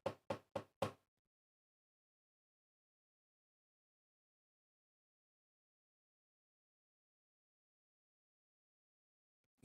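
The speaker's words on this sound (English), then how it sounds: "You definitely can hear that knocking" Four quick, sharp knocks in a steady row within the first second, close and clear, followed by long silence.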